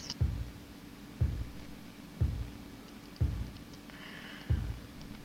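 Programmed bass drum in a rap backing track, hitting only on beats one and three: five evenly spaced deep thumps about a second apart, alone over a faint steady hum.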